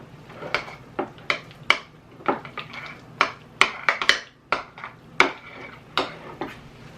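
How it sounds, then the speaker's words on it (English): A spoon clinks and scrapes against a bowl in repeated irregular taps while sour cream or yogurt, cream cheese and green onions are mixed into a crab dip, close and clear with no talking. "you want to go ahead and mix it up"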